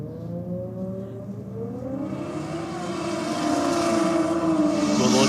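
A Toyota Supra launching hard off the line at a drag strip, engine note climbing through the gears with rising pitch and growing loudness, loud and close, no talk.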